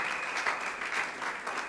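Congregation clapping together during a church service, steady sustained applause filling the room with no voices over it.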